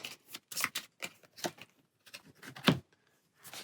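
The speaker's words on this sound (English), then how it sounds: "So we got our trap cards here. Give them a shuffle." A deck of trap cards from the Ghosts of Saltmarsh D&D board game being shuffled by hand, giving several short papery riffles and taps in irregular bursts, close and fairly loud, with no voices.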